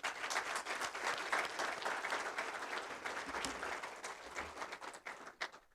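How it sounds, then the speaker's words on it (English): Guests at a football touchdown club banquet in Ashtabula, Ohio give a warm round of applause, a steady wash of many hands clapping that gradually thins and fades toward the end. "Round of applause for George Bellio."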